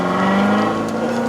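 Engine of a right-hand-drive 2019 Chevrolet Corvette Z06 on the road, a loud, close droning note whose pitch climbs slightly over a brief moment.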